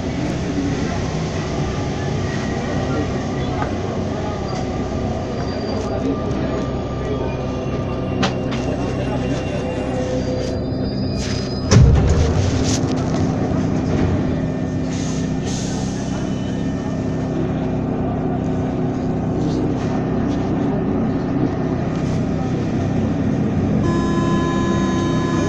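A train passing at close range, with a broad steady rumble and a sharp jolt partway through, while a voice speaks faintly beneath the noise.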